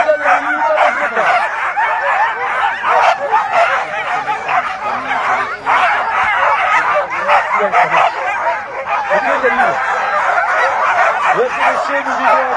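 Excited sled dogs bark, yip and whine in a loud, continuous chorus at the start of a sled dog race stage in Bessans, while an announcer talks over them.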